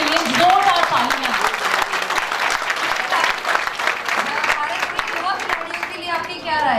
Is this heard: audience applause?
yes